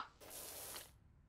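Pressure washer spray from Powerwash Simulator cleaning a bungalow, one steady bright hiss that starts abruptly, holds for under a second, then cuts off into quiet.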